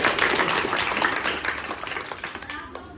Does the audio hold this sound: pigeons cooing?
no